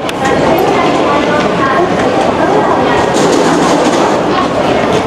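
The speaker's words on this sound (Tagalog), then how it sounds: "sakay lang kaming tren." Steady, loud rumble and rattle of a moving train carriage during a ride in Osaka, a continuous wash of wheel and car noise with some faint voices mixed in.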